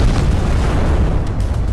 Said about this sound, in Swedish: Ja, där kommer missilen.